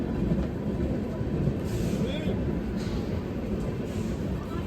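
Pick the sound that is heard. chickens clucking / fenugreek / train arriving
train arriving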